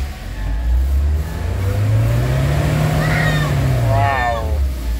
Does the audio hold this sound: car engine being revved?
yes